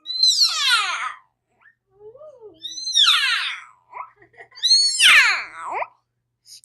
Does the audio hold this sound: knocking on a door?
no